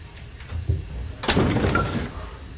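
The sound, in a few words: door being opened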